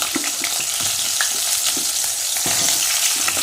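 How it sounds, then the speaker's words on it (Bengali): Potatoes fry in hot oil in a wok, producing a loud, dense sizzle with constant crackling pops, close and steady for the whole stretch. "কড়াইয়ে তেল দিয়ে দিয়েছি, তো আলুগুলো একটু ভেজে নিই।"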